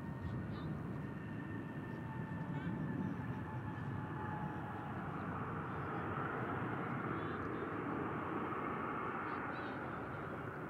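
A heavy jet departs runway 18 left at Dallas Fort Worth airport, its engines making a loud, steady roar that holds across the whole stretch with no break.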